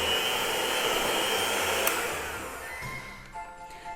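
A loud, steady electric whirr, like a hand mixer whisking cream cheese cookie batter, runs close and continuous for about three seconds, then winds down and stops, with no talking.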